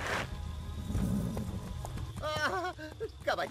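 Unicorn hooves clopping in the fantasy video game Overlord, a run of soft hoof steps with a whinny-like call near the end, heard over game ambience with voices speaking.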